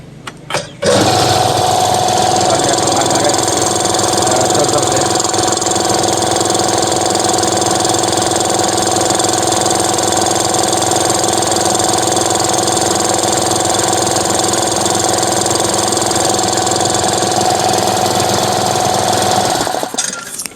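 An old small air compressor motor starting and running, a loud, steady, close mechanical drone with a constant whine and rattling knock that holds unbroken for about twenty seconds and then cuts off.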